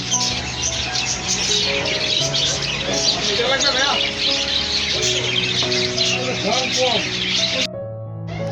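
Birds at the Katabon pet bird market chirp and tweet in quick, bright bursts over dense crowd murmur and shop noise, with a few soft coos mixed in, before an abrupt cut near the end.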